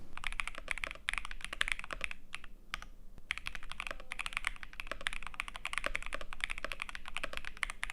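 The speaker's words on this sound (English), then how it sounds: "Here's the keyboard without the silicone foam." Rapid, continuous typing on an Asus mechanical keyboard with its silicone foam removed, crisp clacky keystrokes close up with a brief pause partway through.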